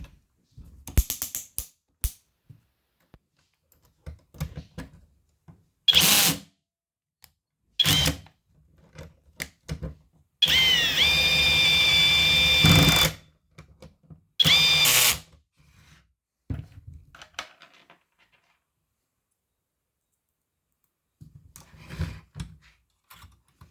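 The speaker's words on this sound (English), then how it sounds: "Now I screw those two guys. I will use my screwdriver." A screwdriver driving screws into the rear cover of a Kyocera Ecosys P2040dn printer, heard as short bursts of ratcheting and clicking separated by silences, with one longer grinding stretch midway.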